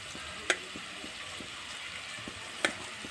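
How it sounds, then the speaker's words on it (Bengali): Onions fry in a pan for mashed elephant-foot yam. A faint, low hiss runs throughout, with two sharp spatter pops a couple of seconds apart. "পেঁয়াজটাকে ভেজে নিব"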